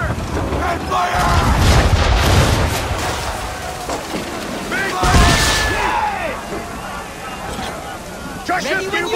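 Ship cannons firing during a naval battle in Assassin's Creed 3, heavy booms landing among shouted commands, creaking rigging and crashing water, with a big blast in the middle and rumbling echoes trailing after.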